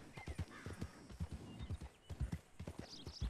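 Horse hooves clip-clopping in Red Dead Redemption 2, a quick brisk rhythm of hoofbeats up close with a brief whinny, fairly quiet overall.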